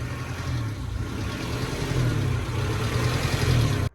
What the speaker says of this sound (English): It's an RPM hunt. It's basically where the car's ECU, the car's computer, is trying to find the right RPMs to idle the car at